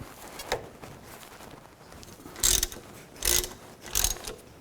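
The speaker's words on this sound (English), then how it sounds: "Now we can take these caliper bolts out. I'm going to use a 12mm socket, loosen those up." A 12mm socket on a ratchet loosening brake caliper bolts on a 2000-2006 Chevy Tahoe: three short bursts of close, crisp ratcheting clicks with brief pauses between them, preceded by a faint tap.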